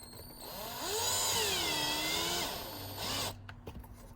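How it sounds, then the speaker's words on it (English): A drill drives a self-tapping screw while mounting an external battery on a Gentoo sprayer, its motor whining and sweeping up and down in pitch for about three seconds, then slowing to a brief final burst before stopping. "We'll get our second self-tapping screw on there."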